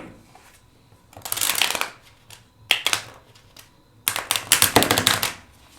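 A tarot deck is shuffled by hand in close, loud bursts of riffling and flapping cards, with quieter handling between the bursts.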